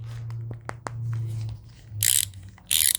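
A handheld 3-in-1 ratchet with a plastic grip: a few separate clicks, then two short bursts of rapid ratcheting, heard close over a low background hum.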